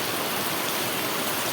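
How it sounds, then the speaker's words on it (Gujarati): Steady rain falling, a dense, even wash of hiss that stays loud and unbroken throughout, with no voices or other sounds. "વરસાદ ચાલુ થઈ ગયો છે"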